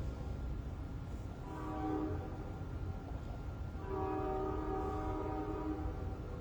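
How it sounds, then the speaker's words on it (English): A train passes at a distance, its horn sounding in two long sustained blasts over a steady low rumble of rail traffic. "I don't know if you guys can hear the train."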